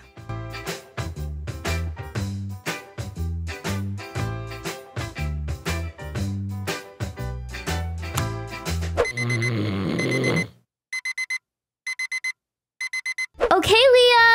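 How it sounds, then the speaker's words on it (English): Several alarm clocks ring in a Roblox Bloxburg house, rapid repeated beeping in a driving rhythm that keeps going, then breaks into shorter bursts of bleeps separated by silence. "I know for sure you hear those alarms, because I hear them from down here."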